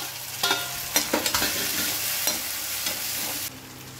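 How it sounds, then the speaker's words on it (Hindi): Tomatoes are stirred into a frying pan while cooking an aloo-gobi sabzi, giving a steady sizzle broken by a series of sharp spatula scrapes and clinks against the pan. "अब इसमें डाल देंगे टमाटर, टमाटर को इसमें मिला देंगे।"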